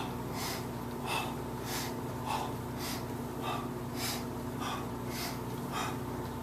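Steady, controlled breathing during a kettlebell strength exercise, with rhythmic sharp exhales repeating about every half second to second, close to the mic over a low background hum.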